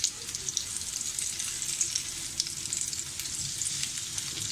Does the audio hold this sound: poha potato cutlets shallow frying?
yes